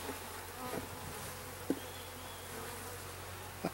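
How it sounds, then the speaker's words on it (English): Honey bees droning steadily around a nuc hive as it is opened for inspection four weeks in, a soft continuous buzz with a few light knocks and no talking. "Number of bees."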